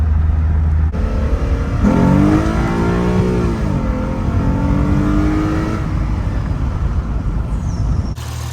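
A Lexus IS350 engine revs while driving, a loud close roar that climbs and falls in pitch through several throttle pushes over a continuous road rumble.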